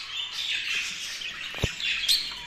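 Birds chirp and squawk close by in short, sharp calls over a quiet background, a mated pair on the ground courting.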